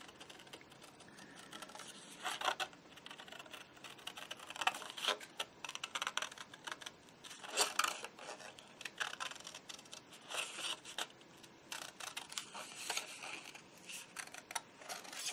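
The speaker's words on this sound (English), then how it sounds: "Fussy cut this cute little pumpkin." Scissors fussy-cutting a small paper pumpkin for a travelers notebook, giving quiet, irregular snips and paper rustles close by with no talking.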